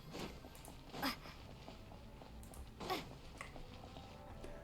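A dog in Genshin Impact gives two short, faint sniffing or panting bursts about two seconds apart against a low ambient hum, with no speech.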